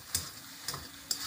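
Ingredients being fried for a herbal preparation and stirred in a pan after the flame is switched off, making a faint low sizzle with three sharp scraping strokes spaced apart.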